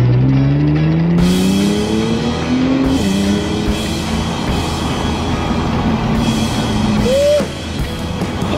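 Base-model Nissan GT-R accelerating hard, engine note climbing steadily through the gears with loud, close rising pitch and brief shifts, sustained and loud throughout.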